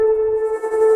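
Granular synth tone from a Roland P-6 sampler with delay and heavy reverb, a sustained hollow pitched drone holding steady for about a second.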